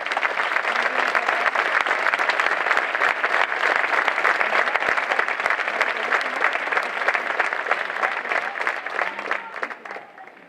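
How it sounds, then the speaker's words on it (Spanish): Audience at a Virgen de los Remedios fiesta in Villarrasa applauds the volunteers with steady, dense clapping that holds for about ten seconds before thinning and fading near the end. "Pido un fuerte aplauso para todos los voluntarios"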